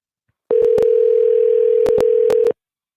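A telephone dial tone sounds loud and steady for about two seconds while a call is placed, with a few sharp clicks breaking over it.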